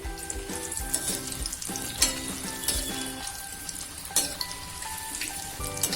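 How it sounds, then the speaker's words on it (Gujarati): Stuffed pointed gourd (parval) fries in hot oil with a continuous close sizzle, full of sharp crackles and pops and occasional stirring clatter. "તેલ ગરમ થઈ ગયું છે હવે આપણે જે પરવર લીધા છે તેમાં નાખી દઈશું"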